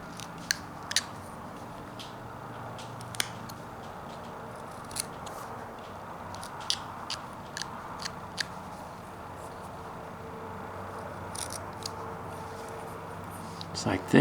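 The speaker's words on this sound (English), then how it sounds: "I follow that up with even a deeper cut underneath the nose." A knife whittles a small two-inch wooden character face, making deep cuts under the nose: sharp, scattered scraping clicks and short slicing bursts over a low room hum, close and fairly quiet, with no voice heard.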